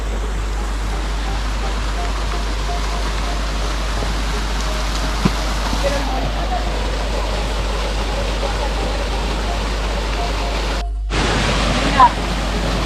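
Waterfalls on the Bohilgues river give a steady, broad rushing roar throughout, constant and close, with a brief dropout near the end.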